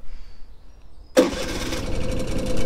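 A two-stroke Honda Melody scooter engine cranks and catches abruptly after near silence, then runs on in a steady, buzzy idle, close and fairly loud with no talking.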